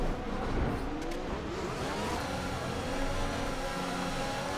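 Racing car engine in the F1 2021 game at the Russian GP, a steady high-pitched roar held near the top of eighth gear, loud and continuous with no talk.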